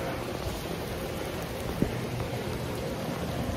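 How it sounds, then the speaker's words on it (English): Steady rain hisses throughout on an outdoor basketball court, a dense even patter on surfaces with one brief knock partway through; no voices. "We hoops in the rain, baby."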